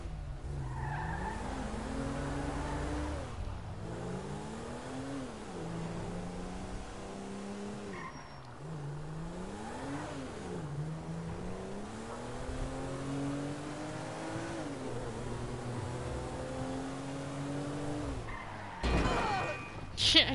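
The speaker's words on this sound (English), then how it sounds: "Shit, I crash." Car engine in Grand Theft Auto revving and rising and falling in pitch over a steady drone, with tire skidding and a crash near the end, loud throughout.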